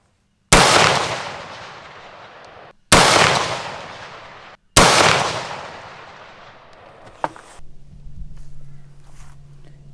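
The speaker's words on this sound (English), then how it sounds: "So here's some shots I was firing just off the tailgate of the Jeep." Three loud, sharp gunshots from a Wedgetail MPR Mini 300 Blackout rifle fired off a Jeep tailgate outdoors, each followed by a long decaying echo across open ground, then a faint click and a low steady hum.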